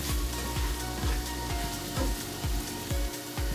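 Flour and butter roux browning in a pan, a steady close sizzle broken by regular scraping strokes as a utensil drags the thick, dry mixture around roughly every half second.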